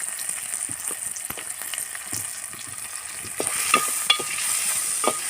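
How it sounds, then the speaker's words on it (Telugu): Onions frying in a clay pot for a tomato egg curry are stirred back and forth, giving a steady soft sizzle broken by repeated scraping and clattering strokes of the spoon, growing a bit louder toward the end. "ఉల్లిగడ్డలు వేసుకోవాలి నిమ్మలంగా అటు ఇటు కలిపి చక్కగా అటు ఇటు కలుపుకోవాలి"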